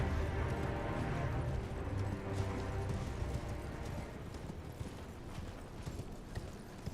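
Torrent, the spectral steed in the Elden Ring video game, gallops with steady rapid hoofbeats close up, carrying on for the whole stretch over a dense game soundscape.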